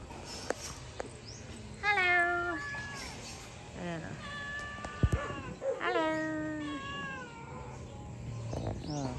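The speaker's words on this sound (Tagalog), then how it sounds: "Meron din tayong mga pusa dito." A cat meows several times in drawn-out, wavering cries, fairly close, with a sharp knock partway through.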